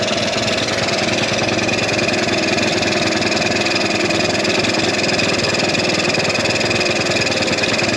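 A three-wheeler's engine idles a little high, holding a loud, close, steady mechanical drone with an even vibrating throb that never changes pace; no voices.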